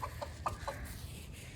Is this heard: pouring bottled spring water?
no